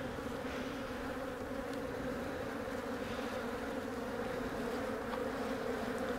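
Honey bees swarm and buzz around an opened hive during a beekeeping inspection, a dense steady drone close to the ear that never lets up, with no voices.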